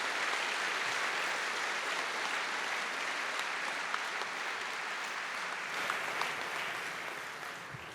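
A large assembly at a church general meeting's opening worship gives steady, dense applause to welcome visiting guests, holding evenly for about eight seconds before easing off.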